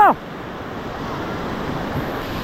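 Steady broadband rush of water from Hidlumane waterfall at Kodachadri, a continuous roar filling the scene without a break, with a brief tonal chirp at the very start.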